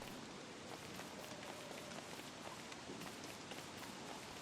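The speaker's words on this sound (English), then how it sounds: "Okay, we've got rain." Steady rain falls in the video game Don't Starve, a dense, even hiss of drops on the ground that runs unbroken at moderate level, with no voices over it.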